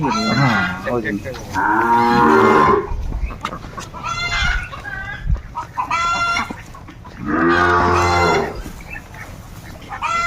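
Sahiwal cattle moo in several long, loud calls, one after another, with rooster crows and other farmyard noises around them.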